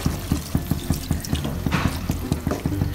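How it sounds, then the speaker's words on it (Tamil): Water poured into a pan of brinjal curry in a home kitchen: a close, bubbling, gurgling pour with rhythmic splashing pulses that continue steadily for a few seconds, with no talk. "லைட்டா தண்ணி விட்டுக்கிறோம்."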